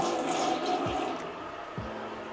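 A toilet flushes in a compact studio-room bathroom, a steady rushing swirl of water running close by with no one talking over it.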